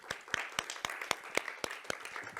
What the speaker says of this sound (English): let's have a round of applause for Vuk